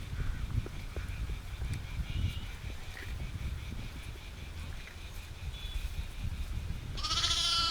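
Sheep and lambs resting together in a farm pen give occasional bleats over a steady low rumble of background noise, with one clearer nearby bleat at the end.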